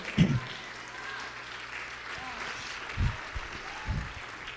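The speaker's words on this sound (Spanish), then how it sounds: "Dele un aplauso al Señor." A church congregation applauds during a Spanish-language sermon. The clapping is moderate and scattered beneath a voice, with a few louder thumps.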